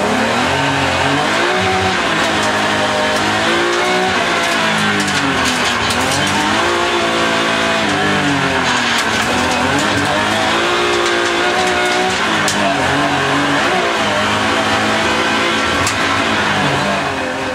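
In-car recording of a BMW front-engine rear-wheel-drive saloon at a hillclimb, its engine revving hard and continuously through rising and falling gear changes, loud and close, with some tyre squeal.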